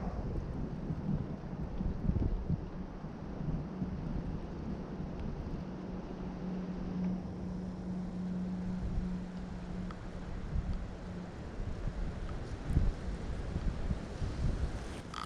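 Steady wind blowing outdoors on an overcast day while bass fishing, a continuous close rumble buffeting the microphone with a faint low hum partway through and no talk.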